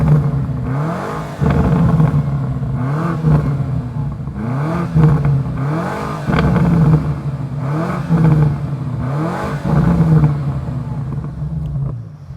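2025 BMW M5 with a 727 hp V8, heard from outside as the engine is revved repeatedly, giving loud, deep exhaust blips that rise and fall in a regular cycle, close to the microphone.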